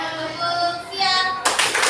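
A class of children plays a clapping game. Voices sound for most of the stretch, then a short sharp burst of clapping breaks in near the end.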